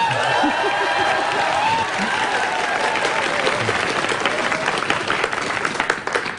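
A studio audience at a live public broadcast of a Korean news talk show claps in sustained, dense applause that stays loud throughout, with some voices mixed in.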